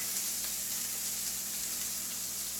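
A handful of cheese sizzles on a hot grill while making a breakfast pizza burrito, a steady, close frying hiss that carries on evenly without pause.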